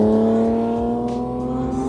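A loud sports car engine revs on a canyon road, its steady strong harmonic drone shifting slightly in pitch with no talking over it.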